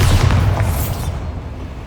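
A Bombarda blast spell in Hogwarts Legacy erupts as a loud, heavy boom at the start, its rumble fading out over a couple of seconds with no voices.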